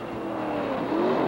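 Blue Ford race car running in the lead at the 1969 Le Mans race near the Mulsanne corner, a steady loud engine drone with a rising whine toward the end, no talk.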